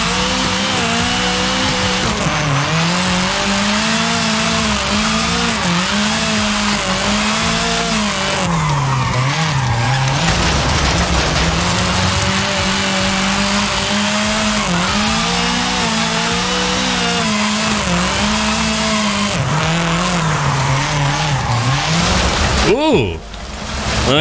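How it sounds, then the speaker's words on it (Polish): A rare Japanese Polonez Trapez car in Forza Horizon 5 drives on slippery ground, its engine drone rising and falling with revs as the tires slide, loud and continuous, with a sharp sweep near the end. "No jest trochę zbyt ślisko. Te opony dają o sobie znać."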